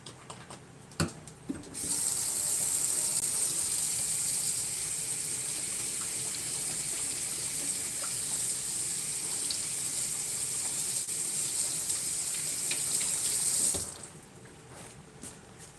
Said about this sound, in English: Gonna wash my hands before I cook.